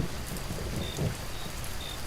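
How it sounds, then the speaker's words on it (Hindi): Heavy rain hisses steadily with a low rumble of thunder swelling briefly near the middle, a dense continuous downpour with faint thunderclaps and no voices. "बिजली की कड़कड़ाहट के साथ बादल गरज रहे थे।"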